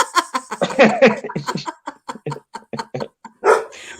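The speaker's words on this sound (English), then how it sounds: "Stop barking." Dogs bark repeatedly in quick, loud bursts close by, with short gaps between volleys and a final strong bark near the end.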